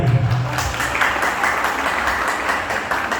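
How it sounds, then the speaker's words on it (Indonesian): Audience applause at a school debate competition, a dense steady patter of many hands clapping throughout, with a brief voice underneath at the start. "Ini tepuk tangan lagi."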